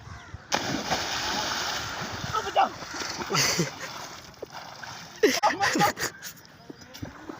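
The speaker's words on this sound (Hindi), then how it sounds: "अब मैं नहाने जा रहा हूँ" Water splashes as a person bathes in a city canal, with repeated sloshing and splatter bursts close by, loudest around the middle and near the end, while someone talks over it and crows caw in the background.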